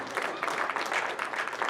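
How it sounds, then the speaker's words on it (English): Moderate applause from an audience at a Move the Money Michigan community event, a steady patter of many hands clapping at a middle distance for under two seconds. "let's give them all a nice round of applause"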